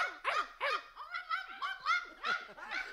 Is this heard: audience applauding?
no